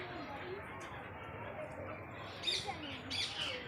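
Caged parrots let out a couple of short, sharp squawks near the end, over steady background chatter and ambient noise.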